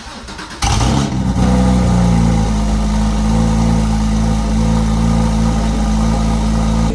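A Porsche Cayman GT4 on Angeles Crest Highway fires up with a sudden loud burst, then settles into a steady, close, throaty idle with deep engine and exhaust tones and no talk.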